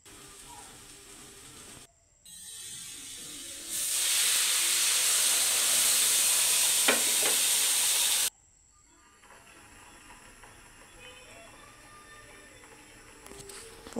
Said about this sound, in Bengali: এখন আমি আমার পরিমাণ মতো পানি দিয়ে দিব।